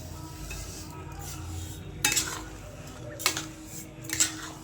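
Carrot halwa with sugar being stirred in a pan, a spoon scraping and clinking against the metal in three louder strokes over a low steady cooking noise, close by with no talk.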